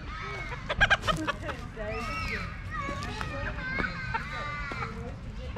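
A red rooster in Australia gives a string of clucks and calls, close and fairly loud, with people's voices heard alongside.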